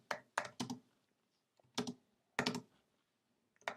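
Keystrokes on a computer keyboard come in short bursts of clicks, a few quick presses, then pauses, then more, close and fairly quiet with no talking.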